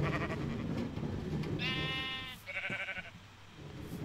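Sheep in Minecraft bleat in a few short, clear calls, one drawn-out bleat followed by a shorter one, over a steady game background with no talk.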